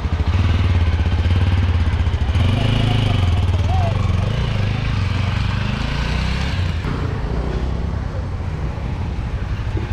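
A Yezdi Adventure motorcycle fitted with a 55-litre top box runs close by with a steady, loud engine drone, pulling away as people talk over it.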